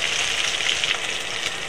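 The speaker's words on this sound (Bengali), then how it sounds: "এক পিঠ লাল করে ভাজা হয়ে গেছে, উল্টো পিঠ ঘুরিয়ে দিয়েছি লাল করে ভাজার জন্য" Bata fish sizzling steadily in hot oil, a dense continuous crackle close by with no pauses or voices.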